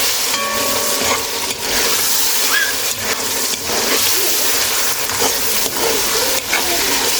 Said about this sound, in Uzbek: Endi qovuramiz.